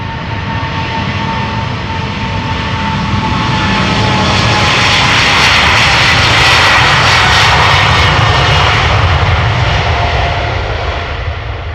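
Airliner jet engines roar steadily and loudly at Amsterdam Schiphol Airport, a continuous broadband rumble with a whining tone that swells slightly through the middle, with no voices over it.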